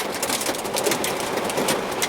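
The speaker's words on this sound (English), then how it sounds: "It's still hailing." Hail falls hard and steadily during a storm, a dense, continuous pattering hiss with no pauses and no talk.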